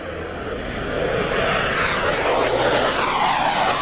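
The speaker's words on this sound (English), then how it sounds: "This Swiss fighter jet is just one of 100 aircraft taking part in NATO's Arctic exercise this week." Swiss fighter jet flying during a large NATO Arctic air exercise, a broad continuous engine roar that swells and stays loud throughout, with no voices.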